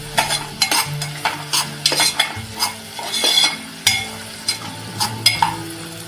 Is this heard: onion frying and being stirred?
yes